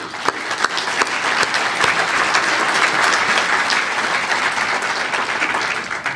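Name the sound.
audience applause for racing champions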